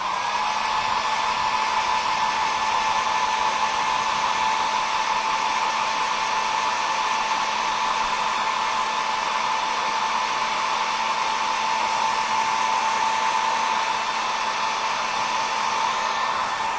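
A hair dryer blows steadily and close for the whole stretch, a loud, even whir with a constant hum, drying fresh paint on a small Halloween book nook cabinet, no voices over it.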